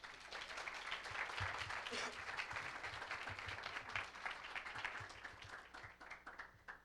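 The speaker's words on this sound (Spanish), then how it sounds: "Un fuerte aplauso, por favor." Audience at a HUBtalk on clinical medicine seen through art applauding the introduced speaker, a sustained crowd clapping of fairly quiet, fluctuating intensity with some murmured voices and a faint low hum underneath.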